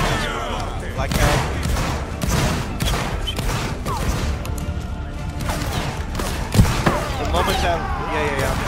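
Massed musket volleys in a Roblox Napoleonic wars battle between Italy and Naples, a dense continuous roar of overlapping gunfire with one sharper crack, loud throughout, with players' voices mixed in.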